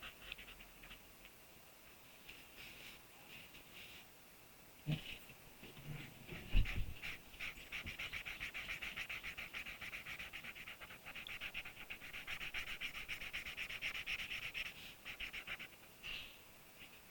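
A dog pants steadily and rapidly up close, its quick breaths running continuously through most of the stretch, with a faint whimper and a few small thumps and handling noises early on; no one speaks.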